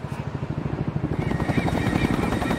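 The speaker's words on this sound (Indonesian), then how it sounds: "Oh, ada helikopter." A helicopter in the video game XIII, rapid rotor thumping that swells louder and nearer over a couple of seconds, with a faint tonal whine above it.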